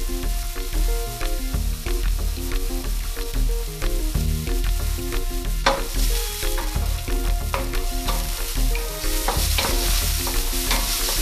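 Onions sautéing in olive oil, sizzling steadily while a utensil scrapes and stirs them around the pan in repeated strokes, loud and close, without any talking.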